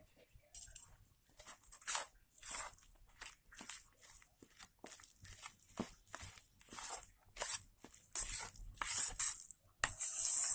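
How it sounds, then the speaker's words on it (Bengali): Fish roe and gram flour batter is beaten by hand in a bowl for village-style Bengali pakoda, giving a close series of irregular, sharp slapping and scraping strokes that quicken and grow louder toward the end. "এইভাবে ফেটে নেব, খুব ভালো করে এইভাবে এটাকে ফেটে নিতে হবে।"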